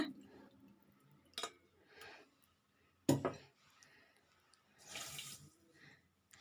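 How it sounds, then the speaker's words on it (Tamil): Water poured from a bowl into a cooking pot holding sugar, in a home kitchen while preparing a roasted gram burfi sweet; a few short splashy bursts of pouring, close and moderately loud, with quiet pauses between. "அரை கிண்ணம் தண்ணி விடலாங்க"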